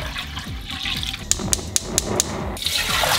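Tap water runs into a pot being filled for boiling, a steady close splashing rush broken by a few sharp knocks partway through, with no voices.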